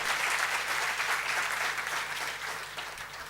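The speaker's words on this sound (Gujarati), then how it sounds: "ત્રણેયને જોરદાર તાળીથી બતાવ્યા." An audience at a Surat music talk claps loudly and steadily, a dense crowd applause that holds for a few seconds and tapers off slightly toward the end.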